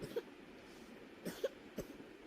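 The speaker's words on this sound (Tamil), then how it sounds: "தம்பி பக்கத்துல இருக்கனால க்ளோஸ் பண்ணி இருமுறியாமா வாய?" A small child coughs a few times in short, soft bursts, close by in a quiet room with no talking over it.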